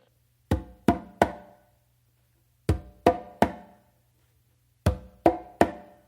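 Three groups of three sharp, dry close slaps on a conga, evenly spaced with pauses between groups, close and crisp.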